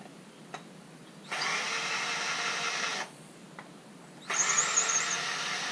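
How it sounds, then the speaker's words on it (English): A powered screwdriver backs screws out of a cast aluminum plate at a scrap yard, giving two sustained whirring, squealing runs separated by a quiet pause, fairly faint and without speech. "these other screws on the back side, which all you have to do is take a screwdriver"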